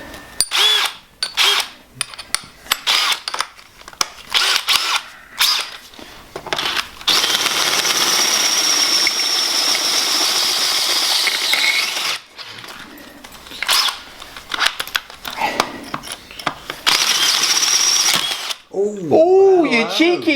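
Power drill boring into a tractor axle on a Massey Ferguson "Fergie" rebuild, whirring in long loud bursts with short pauses and changing pitch, and a voice talks briefly at the end.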